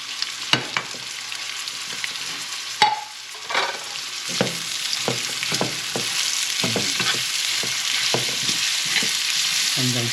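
Onion sizzles steadily in a pan with browned garlic, with a bright frying hiss and repeated scraping clicks of a utensil stirring, close and loud and without talking.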